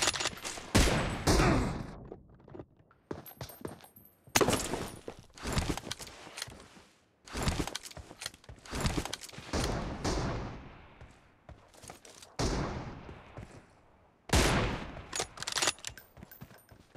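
Rapid gunfire from the video game PUBG Mobile in a team deathmatch with an M24 rifle, loud bursts and single shots repeating in clusters across the clip, close and with no talking.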